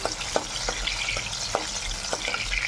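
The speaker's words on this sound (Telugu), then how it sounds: "తర్వాత మనం కట్ చేసి పెట్టుకున్నాను కదా ఎర్రగడ్డ, అలాగే 7-8 వెల్లుల్లి ఇవి ఫ్రై చేసుకోవాలి." Chopped onion and seven or eight garlic cloves fry in oil in a pan for an eggplant tomato curry, with a steady close sizzle and regular light spatula taps, no talk.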